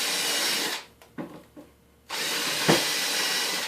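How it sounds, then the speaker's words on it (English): Power drill pre-drilling into plywood under a bay window, a loud whirring bore, a short pause with a few light taps, then a second sustained drilling burst nearby. "the reason I'm pre-drilling is because it'll suck this plywood up to the other plywood way better"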